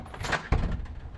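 Tesla Model 3 car door opening: a soft mechanical rustle followed by a single sharp thunk partway through, heard close up with no talking.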